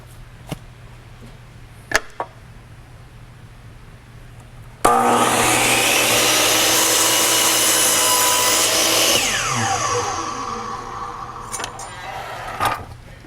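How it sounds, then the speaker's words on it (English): A DeWalt miter saw fitted with a zero-clearance insert slices through a wood board in one loud, steady cut of roughly four seconds, then spins down. Light clicks and handling come before and after. "Let's go ahead and make a cut so you can see the type of precision that you"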